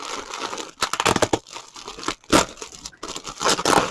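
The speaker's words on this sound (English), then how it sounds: "I love the sound of parcels opening" A parcel of yarn is torn open by hand, with loud, close ripping and crinkling of packaging in irregular bursts and brief pauses, and no talking.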